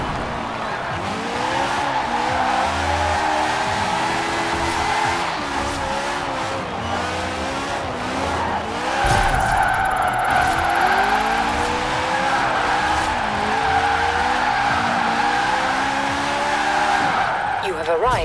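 A 1924 Austin Seven, rear-wheel drive, slides through drifts in the racing game Forza Horizon 4, its engine droning steadily while loud tire squeal rises and wavers across long continuous skids.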